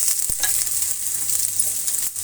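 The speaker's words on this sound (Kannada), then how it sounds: "ಈರುಳ್ಳಿ ಚೆನ್ನಾಗಿ ಫ್ರೈ ಆಗಲಿ." Chopped onions fry in oil in a pan, a steady close sizzle with occasional stirring scrapes and a sharp knock near the start, no voices.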